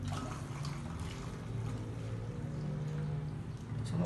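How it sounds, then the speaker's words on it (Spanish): Boiled water is poured into a container holding balloons, giving a soft continuous trickling and splashing pour over a low steady rumble. "Entonces pasamos a ejecutar a echar el agua"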